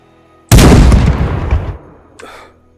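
A single Barrett .50 cal rifle shot in the game Screaming Dayz, a sudden loud boom that rolls off over about a second into a fading tail, with a faint mechanical rattle afterward.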